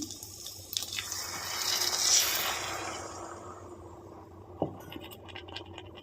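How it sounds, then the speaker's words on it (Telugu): Milk is poured into a pan for a drumstick curry, a soft liquid pour and faint scraping close by, with a brief clink near the end. "ఇప్పుడు పాలు వేస్తున్నాను ఇందులో పాలు వేస్తున్నాను"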